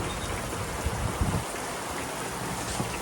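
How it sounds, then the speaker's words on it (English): Steady rain during a daily afternoon rainstorm in Southwest Florida, heard from a boat on the water near Cape Coral, with a constant broadband hiss and a few soft splashy patters, no voices. "It's our daily rainstorm in Southwest Florida."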